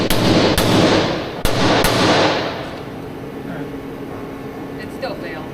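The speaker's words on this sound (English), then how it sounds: "All else fails, use a bigger hammer." A few sharp metallic hammer strikes ring out early on a small locomotive, with a loud clank near the middle, then the ringing fades into quiet background noise.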